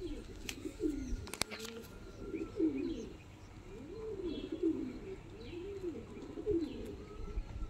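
Kasuri Kalsira pigeons coo in repeated rolling phrases close by, a steady low warbling series running throughout, with a few faint chirps and one sharp click near the start.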